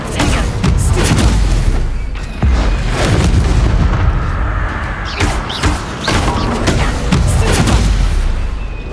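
Blasting-curse explosions in Hogwarts Legacy, a series of loud booming blasts with crackling debris, dense and continuous with sharp repeated impacts.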